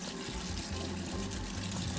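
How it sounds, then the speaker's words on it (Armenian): Spinach rinsed under a running kitchen tap: a steady, close stream of water splashing continuously over the leaves, with no talk. "Այն հարկավոր է առաջ ջրի տակ լավ լվանալ"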